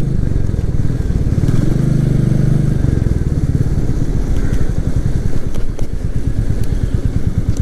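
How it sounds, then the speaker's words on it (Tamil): A Royal Enfield Meteor 350 motorcycle idles close up, its steady, thumping single-cylinder exhaust note running continuously with a few slight blips of throttle, loud and unaccompanied. "இந்த இடத்துல நிப்பாட்டி உங்களுக்கு எக்ஸாஸ்ட் நோட் நான் காமிக்கிறேன் பாருங்க"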